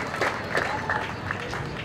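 Applause from the crowd at a university dairy creamery grand opening ceremony, a short burst of scattered clapping heard from a moderate distance.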